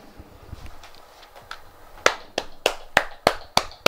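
A man claps his hands about seven times at a steady pace, sharp and close, after a stretch of quieter soft tapping and background sound.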